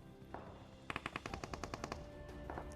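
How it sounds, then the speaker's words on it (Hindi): Automatic gunfire in the battle royale game PUBG rattles out as a rapid burst of about a dozen shots, faint and distant, with a couple of softer isolated pops before and after. "अब यहाँ पे जॉर्जपुर में कुछ फायरिंग का साउंड आता है"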